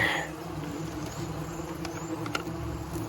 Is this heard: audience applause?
no